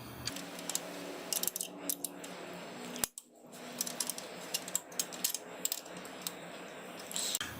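Faint, small metallic ratcheting clicks and light mechanical ticks come from a bolt being loosened on an e-bike's rear cargo rack clamp, repeated in irregular bursts with a brief pause midway.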